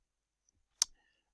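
A single crisp computer mouse right-click on an imported graphic in Xara, sharp and close, standing alone in near silence with a faint tick just before it.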